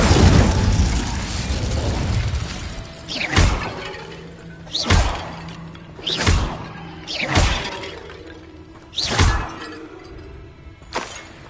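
An Incendio fire spell is cast over and over in the Hogwarts Legacy game. A rough whooshing blast opens, followed by five or six sharp, shattering impacts at roughly steady intervals.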